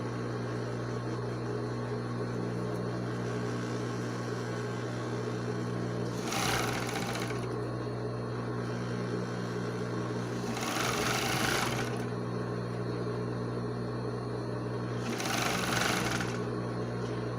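A sewing machine stitching a white ballerina leotard with gold threads hums steadily in the background, broken by three loud bursts of rapid stitching at regular intervals, with no talking.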